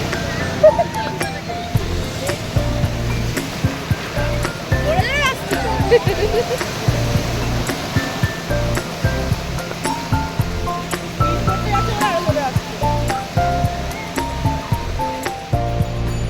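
Sea surf rolls in continuously at Puri beach, a loud, close wash of breaking waves, with people talking and voices mixed in throughout.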